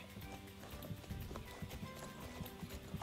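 Horse hooves clip-clop in a rhythmic trot in a horse-riding video game, steady close hoofbeats over a low background hum.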